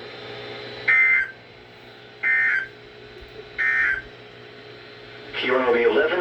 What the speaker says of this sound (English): the National Weather Service has just activated the public warning alarm tone in the test of the